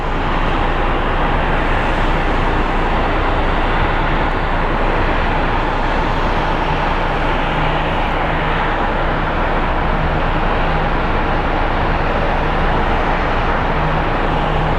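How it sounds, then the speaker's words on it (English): At Sky Harbor International Airport, a Southwest airliner pushes back. Steady broad jet engine roar and airport rumble hold for about fifteen seconds, loud and continuous with no talk. "And right now we have a Southwest that's pushing back."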